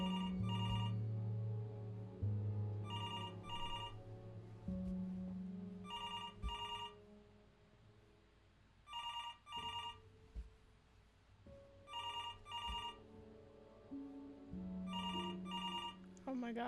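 A telephone rings in the video game Before Your Eyes, giving repeated double bursts of electronic ringing at a steady pace over low, sustained game music.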